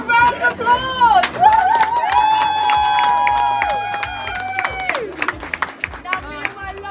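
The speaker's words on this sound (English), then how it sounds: "Can we all give him a round of applause?" Restaurant guests at the Rainforest Cafe in London cheer and clap for a birthday guest. Loud whooping voices rise and hold over a crowd, then scattered claps and chatter follow.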